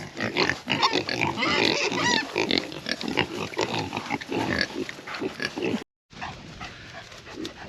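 Pigs grunting, squealing and snorting close by, a busy overlapping chorus of several animals that stops briefly before resuming more quietly.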